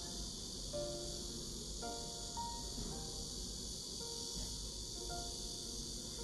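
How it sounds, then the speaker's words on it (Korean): Steady high-pitched insect drone fills the air continuously, like cicadas buzzing in a chorus, with faint tonal chirps and low background rumble. "제 주변에는 지금 매미 소리가 많이 들립니다."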